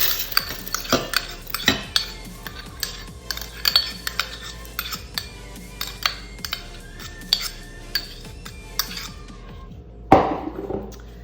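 Metal utensils clink and scrape against a melting pot while yellow beeswax is added for citrus lotion bars, with repeated sharp taps and stirring noises close by, ending in a louder clatter.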